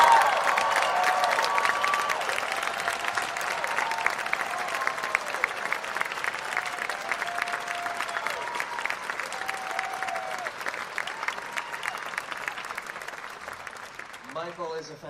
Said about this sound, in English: I would love for you guys to join us in giving these musicians a round of applause